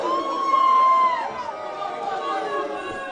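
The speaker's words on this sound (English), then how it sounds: "Crowd is turned against AJ here." A wrestling arena crowd chatters and jeers in a dense, steady babble of many voices, with individual shouts rising out of the roar.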